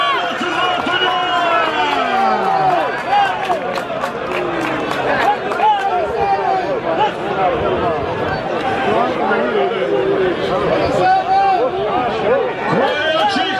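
A crowd at a bull fighting event makes a dense, continuous roar of cheering, shouting and chatter, with a commentator's voice running over it the whole time.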